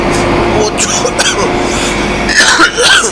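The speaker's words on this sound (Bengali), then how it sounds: "সরি সরি সরি প্রচুর কাশি হচ্ছে" A person riding on an AC bus coughs several times in short bursts, loud and close, with bus noise rumbling underneath.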